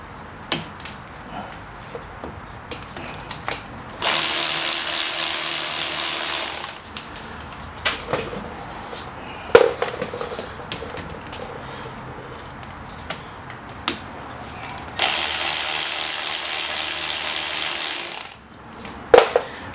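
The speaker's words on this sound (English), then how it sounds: "we're going to go ahead and remove these guide pin bolts" Two long, loud bursts of a power tool spinning off the 14 mm brake caliper guide pin bolts on a 2003 Chrysler Sebring coupe, with scattered metallic clicks and clunks of the work between them and no talking.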